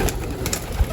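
Pigeons let out of a backyard loft, heard as a brief burst of soft cooing and fluttering over a low background hum.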